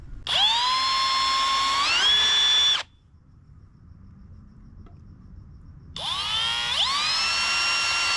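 Power drill boring holes into the bottom housing of a KC Hilites Gravity Pro 7 LED light, two loud whining bursts with rising pitch as the bit bites, separated by a quiet pause, close to the microphone.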